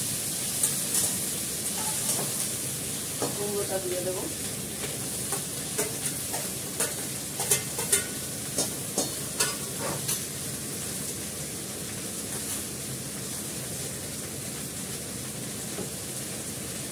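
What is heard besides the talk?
vegetables frying in a pan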